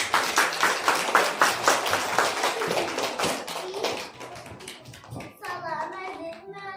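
Applause from a school spring celebration welcoming the spring girl: dense, steady clapping from a crowd of pupils and teachers for about four seconds, tapering off as a voice begins speaking.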